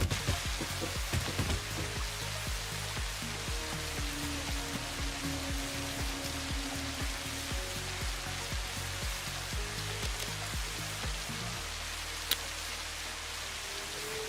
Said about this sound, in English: Is it raining with no rain falling?